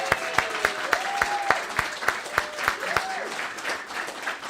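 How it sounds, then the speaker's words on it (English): A church congregation applauds members of its Spanish group ministry. Fairly soft clapping carries on with a few distinct sharp claps standing out in a steady rhythm, and faint voices sit underneath. "Let's give you a round of applause."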